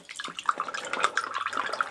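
Sweet tea pouring from a jug into a glass, a short, quiet, splashy stream with irregular gurgles and drips, heard up close and alone.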